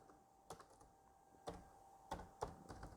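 Someone types on a computer keyboard in a quiet room: a handful of separate key clicks spaced irregularly, close and soft, with no speech.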